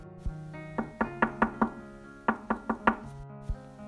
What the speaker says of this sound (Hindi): इतने में दरवाजे पर दस्तक होती है।